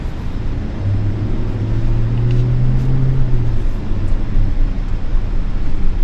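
A 2025 GMC Yukon Denali pulls away at low speed, its engine a steady low hum with a brief rising tone as it moves off, heard from close by with no talk.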